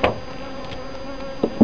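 Faint, steady buzzing of honey bees with a few soft taps, close by and brief.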